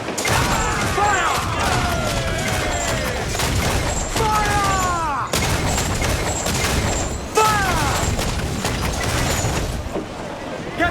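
Heavy broadside cannon fire from a pirate ship in Assassin's Creed IV Black Flag rumbles continuously as booming volleys overlap, mixed with whooshing projectiles, creaking mechanisms and shouted crew voices throughout.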